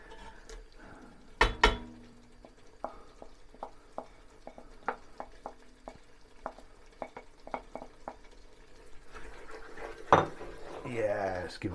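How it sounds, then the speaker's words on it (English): A utensil clinks against a pot of coconut shrimp and crab curry, tapping out a series of separate metallic knocks and scrapes in a quiet kitchen, with a louder clatter near the start and again near the end. "let's give that a stir"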